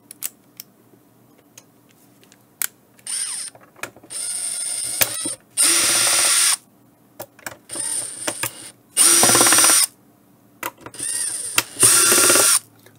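Power screwdriver or drill whirring in several loud bursts of one to two seconds with short gaps, backing out screws from an HME DX300 wireless base station, close up with no speech.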